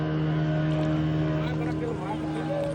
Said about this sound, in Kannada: ನಮ್ಮನ್ನು ಪಿಕ್ ಮಾಡೋದಕ್ಕೆ ಬೋಟ್ ಬಂದಾಯಿತು.